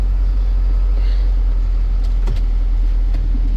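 A work vehicle ploughs through snow drifts during a heavy snowstorm, heard from inside as a steady, loud low rumble of engine and road noise with a few faint knocks.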